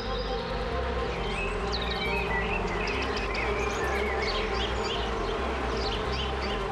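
A dense swarm of honeybees hums loudly and continuously, close by, with higher buzzing passes of individual bees weaving over the low steady drone.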